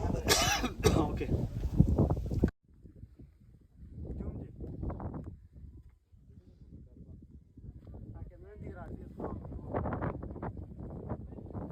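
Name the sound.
coughing in strong cold wind on hilltop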